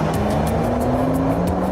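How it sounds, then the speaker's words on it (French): A Nissan GT-R R35 drives on rough roads at about 50 to 60 km/h to shake the suspension and wheels, a loud steady engine drone with a rising tonal hum and road rumble throughout. "On roule 50 ou 60 km sur de mauvaises routes pour secouer énergiquement les suspensions et les"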